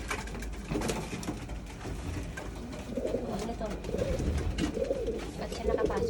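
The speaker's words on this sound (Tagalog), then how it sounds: "kung sakaling maabutan ko si Mr. Nakamura na dadalhin na yung mga kalapati o ipapadala niya na sa mga OLR" Racing pigeons coo repeatedly in a loft, soft throaty rolling calls overlapping one another close by, with rustling and a person talking in the background.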